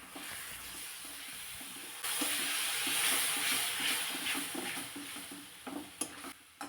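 Tomato paste being stirred into a roasted spice masala for a spicy gravy vegetable curry, a steady loud sizzle and frying hiss that jumps louder partway through, with scraping stirs and a few sharp utensil clinks near the end.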